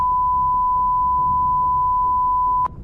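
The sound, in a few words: beep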